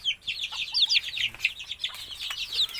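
A hen with newly hatched chicks: rapid, high-pitched peeping chirps come close and overlap one another, with soft low clucks underneath.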